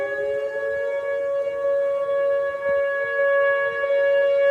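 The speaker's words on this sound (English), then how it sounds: "you're tired of listening to the sirens?" Civil defense sirens wailing during a flood and tornado, a steady sustained droning tone that holds without pause, loud and continuous with no speech over it.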